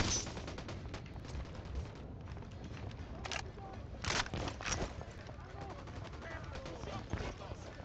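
Video-game gunfire from Ghost Recon Wildlands: short cracking shots and bursts, fairly faint and scattered over a steady background, with a few sharper reports standing out.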